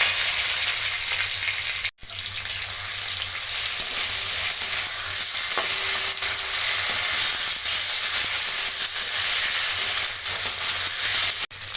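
A ground paste of dry red chilli, cumin and ginger hits hot oil in a pan, a loud, dense, steady sizzle and hiss that runs nearly unbroken for several seconds after a brief drop, with faint stirring and no speech.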